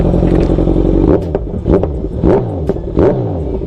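Motorcycle engine revving hard with a loud, bassy exhaust on a local ride in Jaipur, a continuous roar broken by several sharp throttle blips near and close.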